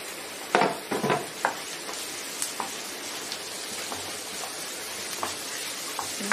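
Okra frying in a pan over high heat, a steady crackling sizzle with scattered sharper pops and a few stirring scrapes, close and fairly loud, no talking.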